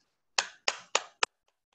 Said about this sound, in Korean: 아주 흥미로운 내용으로 발제를 해주신 우리 조용만 교수님께 박수 한번 부탁드리겠습니다.